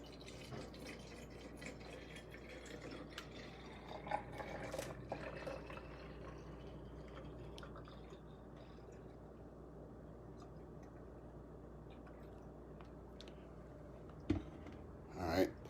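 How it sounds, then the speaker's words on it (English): Weed control liquid is poured into a bottle to measure out 8 fluid ounces, giving a faint, continuous trickling gurgle with a few small splashes and a clunk near the end. "I wanna try to pour 8 fluid ounces into the bottle here."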